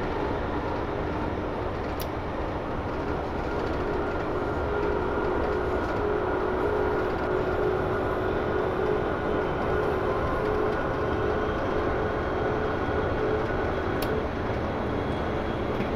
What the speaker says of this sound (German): Und die S-Bahn Berlin.